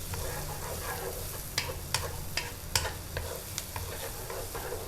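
Onions sauté in a pan with a soft, continuous sizzle and a low hum beneath, as a utensil stirs them in a few sharp scrapes and taps, close by but fairly quiet.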